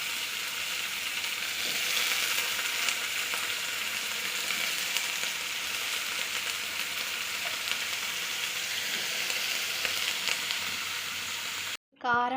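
Eggplant, drumstick and potato fry in an iron kadai with a steady, loud, close sizzle that holds unbroken for most of the stretch before cutting off abruptly near the end.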